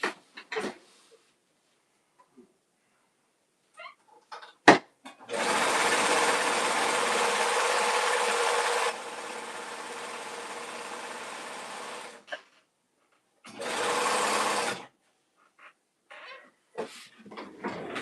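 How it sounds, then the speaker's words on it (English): Serger sewing machine stitching fabric for a patchwork cosmetic bag, a loud close continuous mechanical whir running several seconds that drops slightly in pitch, a pause, then a shorter second burst, with small handling clicks around it. "let me serge this real quick, guys. I also got my serger up and going"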